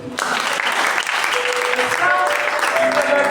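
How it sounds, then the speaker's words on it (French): A congregation claps steadily through a night prayer vigil, dense sustained applause from a large crowd with voices mixed in underneath. "Acclame Jésus."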